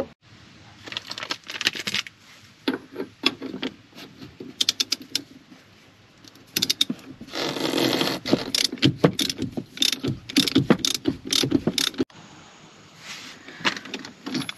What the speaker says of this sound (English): We'll take a socket and a 24mm socket and a socket wrench, and we'll loosen that down.